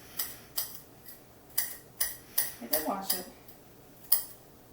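A small paring knife chops celery on a cutting board in a home kitchen, making about nine sharp, distinct taps at an uneven pace, close and fairly loud, with no talking.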